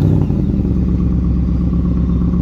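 A Ford Mustang Mach 1 engine rated at 480 horsepower starts by remote and settles into a loud, steady, throbbing idle, its deep regular pulsing close and continuous.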